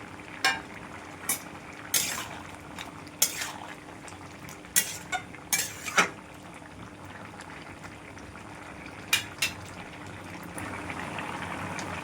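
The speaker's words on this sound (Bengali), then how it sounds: "এবার ভাজা বড়িগুলো দিয়ে দিলাম।" Fried lentil dumplings (bori) go into a six-vegetable curry in a pot, a low bubbling simmer broken by a dozen sharp, close clanks of a spoon against the metal.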